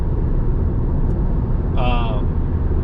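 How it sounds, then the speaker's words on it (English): Steady, close road noise from a 2022 Subaru WRX cruising on a highway in sixth gear, a low broadband rumble with a brief higher whine partway through. "you guys can just hear where the car is at in 6th gear and just chilling kind of on the highway"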